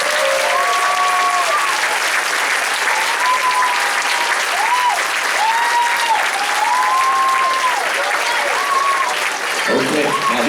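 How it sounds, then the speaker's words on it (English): Dense, sustained applause from a large audience after a student orchestra performance, loud and continuous throughout, with a few voices calling out over the clapping. "One more round of applause for the Indigo Orchestra."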